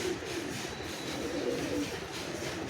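A male Malbai pigeon coos softly and continuously nearby, a low burbling murmur lasting a couple of seconds against a faint hum.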